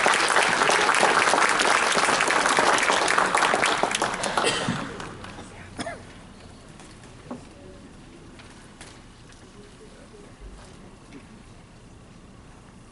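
Audience applause at an assembly hall, a loud burst of many hands clapping for several seconds that quickly dies away into scattered claps and quiet room noise.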